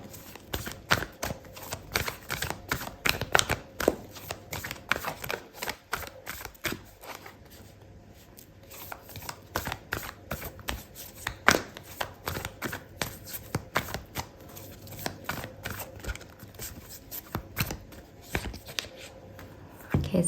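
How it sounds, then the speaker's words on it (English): Oracle cards shuffled by hand during a tarot reading, a steady run of soft papery riffles and flicks over about twenty seconds, close and fairly quiet with no talk. "I'm gonna pull out an oracle card for you"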